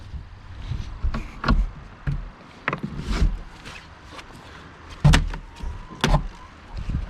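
A chicken run door swinging and being shut, several scraping creaks and solid knocks and bangs spread out with pauses, close by.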